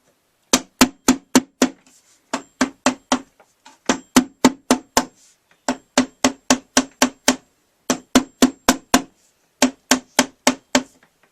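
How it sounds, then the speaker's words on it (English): A rubber mallet taps a Spellbinders Grand Calibur die-cutting machine in crisp, evenly spaced bursts of four or five knocks, each group separated by a short pause, close and loud with no voices. "I thought to use a rubber mallet and not a regular hammer"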